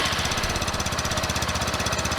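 A Sinnis Hoodlum 125 cruiser motorcycle engine runs close by with a quick, steady pulsing chug. The deep, rhythmic rumble stays even throughout, with no voices.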